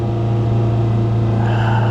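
A 1987 Nissan Be-1, a Japanese right-hand-drive import, with its engine running at high revs, a loud steady droning hum with a strong low tone heard close up, the pitch holding high with a slight rise, and no talk.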